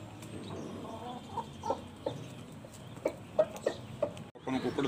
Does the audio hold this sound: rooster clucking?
yes